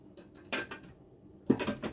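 Dishes and cutlery clatter in a home kitchen during stir-fried vegetable and egg noodle cooking, with a few short, sharp clinks and knocks in two brief bursts separated by a quiet gap.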